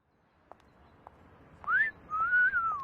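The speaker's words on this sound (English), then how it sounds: "Let's do wolf whistle." A two-part wolf whistle, a rising then sustained tone, plays in a dating video game after a few soft clicks, clear and fairly close.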